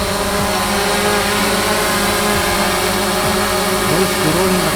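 A DJI drone, a Phantom 4 Pro or Mavic Pro, hovers and descends with its propellers running, a steady loud buzzing whine that holds throughout without pause.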